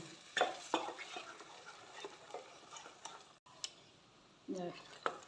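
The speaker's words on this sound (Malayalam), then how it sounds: "ഇതിലുള്ള വെള്ളമൊക്കെ ഒന്ന് വറ്റി വരുന്നവരെ ഇതൊന്ന് മീഡിയം ഫ്ലെയിമിൽ വെച്ച് ഞാൻ ഇളക്കുന്നു." A mixture is stirred in a pan on medium flame, with soft, irregular scraping strokes and light clicks close by over a faint background hiss.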